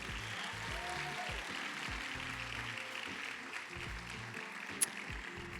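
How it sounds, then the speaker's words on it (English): An audience applauds the candidates at a Hudson ambassador coronation, with a steady, fairly faint wash of clapping that lasts throughout and has a soft murmur underneath. "let's give them all one more round of applause"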